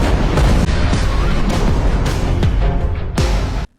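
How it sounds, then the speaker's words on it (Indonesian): A loud explosion in a Korean kidnapping thriller film rumbles through the whole clip, with repeated booming low thuds and bursts layered in dense action-scene noise before cutting abruptly to silence. "Suara ledakan kedengaran, terus semua layar mati."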